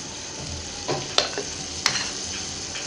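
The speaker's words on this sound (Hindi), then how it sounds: "तो चलिए व्यूअर्स, हम फ्राई करना शुरू करते हैं। ऑयल हमारा अच्छे तरीके से गर्म हो चुका है।" Sweet gulgule batter frying in hot oil, a steady close sizzle with a couple of light clinks from a utensil stirring the pan.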